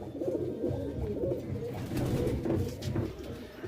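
Pigeons at a loft coo in a continuous low, throaty burble, several birds close together, steady and fairly loud.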